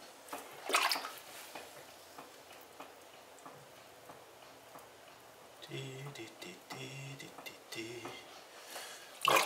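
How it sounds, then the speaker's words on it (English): Water running and splashing during pottery wheel throwing of mugs, intermittent wet trickles and slaps with someone talking over it. "Keep the water flowing"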